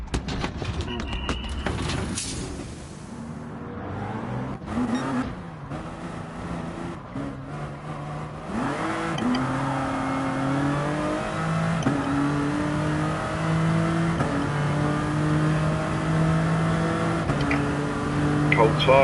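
Racing car in a video game accelerating at full throttle on cold tyres, engine note rising and shifting through gears, loud and continuous under someone talking.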